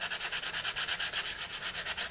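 Hand sanding a balsa model fuselage with 150-grit sandpaper: steady, rhythmic back-and-forth rasping strokes, about eight per second, close and clear with no talking.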